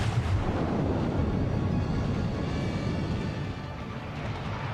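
Naval guns on a Kongo battleship firing in World of Warships, heard as a loud, dense roar of gunfire and explosions that stays steady across the whole stretch without distinct separate shots.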